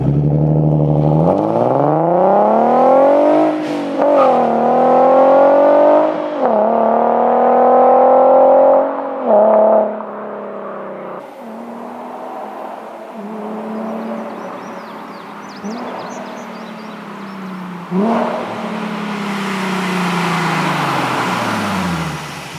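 A Nissan GT-R Nismo fitted with an AAM exhaust pulls through several hard accelerations, its engine note rising in pitch repeatedly with gear changes, loud and close, then settling into a lower cruising drone before a final surge.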